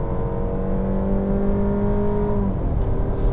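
Mercedes-Benz C-Class gasoline four-cylinder, a C200 4MATIC or C300 AMG Line, revving high with a steady, smooth rising engine note heard from inside the cabin, sustained and fairly loud with no talking.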